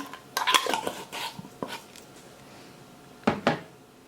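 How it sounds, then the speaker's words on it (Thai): A metal pot lid clatters and clinks against a pot in a kitchen while Thai salmon and fresh shrimp salad is being prepared, with a few sharp close knocks at the start and another pair of clanks near the end. "แล้วก็ขอปิดฝาแป๊บนึงนะ"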